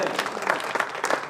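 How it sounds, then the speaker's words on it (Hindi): An audience at an Urdu mushaira poetry gathering in Gurmitkal applauds in a short, steady burst of dense clapping at moderate volume. "2000 तालियां होनी चाहिए सदर साहब के लिए।"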